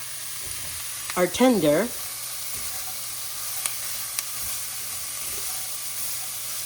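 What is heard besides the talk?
sautéing onion and vegetables in a pot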